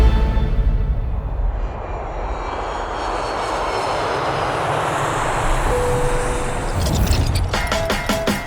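A steady, loud airplane engine roar fills the cabin in flight to Indonesia, with a low rumble and broadband hiss, plus a few faint tonal chimes near the end.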